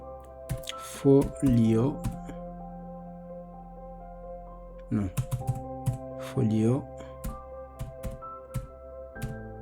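Rapid clicking of computer keyboard typing, in short bursts mixed with someone talking close to the microphone, with pauses between the keystroke runs.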